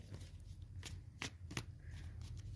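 A tarot card deck being shuffled close up, a quick run of soft riffling clicks and papery slaps in several bursts over a low steady hum.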